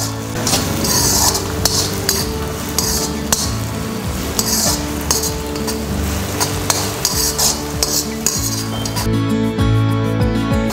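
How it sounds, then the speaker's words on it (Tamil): Ginger garlic paste sautéing in a pan for a quail egg masala, with a steady sizzle under repeated clinks and scrapes of a spoon stirring against the metal pan, and no talking. "இஞ்சி பூண்டு சேர்த்ததுக்கப்புறம் அதையும் நல்லா சேர்த்து வதக்கி விட்டுருங்க."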